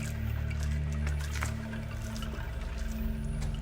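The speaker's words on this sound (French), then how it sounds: "Maintenant, tu entends que quelques gouttes qui tombent" A few water drops fall inside a cave where cascades once flowed, an irregular trickle and drip against a steady low ambient rumble, with no talking.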